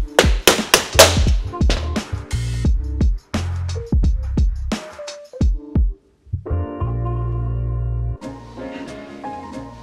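Repeated sharp hammer blows staking a new bushing into a 48RE transmission pump, a dense burst of metallic strikes early on, then scattered taps, with a steady ringing tone toward the end.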